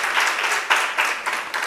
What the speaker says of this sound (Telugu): కొట్టవో చప్పట్లు గట్టిగా